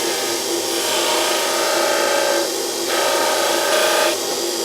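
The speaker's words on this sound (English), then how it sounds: "use the skew chisel and just give it a little nick there" Skew chisel taking a light cut on spinning wood on a lathe, a steady broadband rasping hiss with a continuous motor hum beneath, briefly dipping twice before resuming, close and fairly loud.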